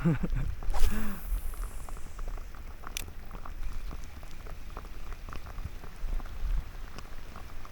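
Steady rain patters and crackles on a surface at a shoreline fishing spot, dense and continuous, with a brief louder rustle near the start.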